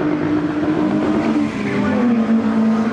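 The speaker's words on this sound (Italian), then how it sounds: "questo è un limitatore che non lascia proprio scampo all'acceleratore" A rally car engine, driven by a Rally Club della Vicentina driver at the Chiampo Motori event, holds steady against its rev limiter with a loud, continuous buzzing drone and no pauses, heard close up for the whole three seconds.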